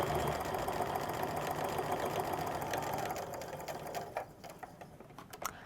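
A sewing machine stitches down the edge of a backpack pocket, running steadily and loudly up close with a fast even whir, then slowing into a few separate stitches near the end.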